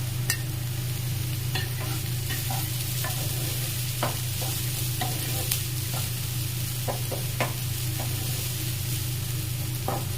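Chopped yellow and red bell peppers stir-fried for chicken fried rice, a steady close sizzle with frequent scraping and clacking of a spatula against the pan throughout.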